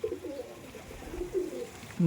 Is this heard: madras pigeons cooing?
yes